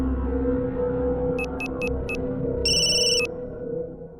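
A telephone rings in a series of short electronic trill bursts, four quick pulses followed by one longer burst, over a steady low hum in a room.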